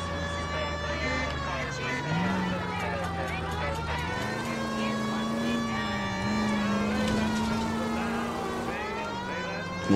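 A police car siren in the video game L.A. Noire wails continuously in slow rising and falling sweeps over engine rumble, while someone talks over it throughout.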